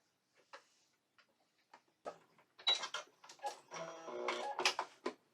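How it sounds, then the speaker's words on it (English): A sewing machine stitches cotton quilt pieces together, its rapid needle clatter starting in short, sparse bursts and then running in a fast, steady, moderately loud stream. "Just gonna sew them up together."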